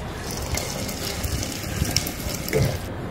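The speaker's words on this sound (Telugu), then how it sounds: "ఇక్కడ కెటిల్లో వాటర్ వేడి చేసుకున్నాను అనమాట. ఇది ఇప్పుడు బియ్యంలోకి వేస్తాను." Hot water from a kettle pours steadily into a pot of rice in a home kitchen, a continuous close gush and splash with faint clinks.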